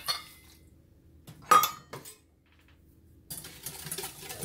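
A bowl of lemon juice marinade for baked pork chops is mixed, with a sharp utensil clink against the bowl near the middle and a burst of scraping, swishing stirring at the end, all fairly quiet with no talk.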